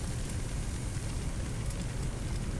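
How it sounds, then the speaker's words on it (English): Water from a firefighting hose raining down in the Firefighting Simulator video game, heard as a steady, even hiss of spray throughout, with no voices. "I don't think there's like really a rain down effect. Oh no, there is."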